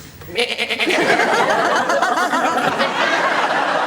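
A person imitates a sheep with a drawn-out, wavering bleat, loud and close, followed by a chuckling, laugh-like tail.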